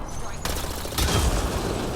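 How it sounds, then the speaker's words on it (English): Gunfire aimed at a Ket device in Mass Effect: Andromeda, a loud burst of rapid shots and booming impacts in two waves, close and heavy with a rumbling low end. "Shooting the device will destroy it."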